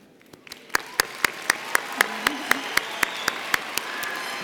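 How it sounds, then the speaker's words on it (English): Audience applause for graduates with departmental distinction at a university fall undergraduate commencement ceremony, a steady wash of clapping from a large crowd with sharp, evenly spaced loud claps cutting through and a faint voice underneath. "Everyone, please join me in applauding these outstanding graduates."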